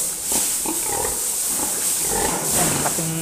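Farm sows grunt and squeal close by in a pen, a cluster of rough, overlapping oinks and short snorts in quick succession with steady background noise.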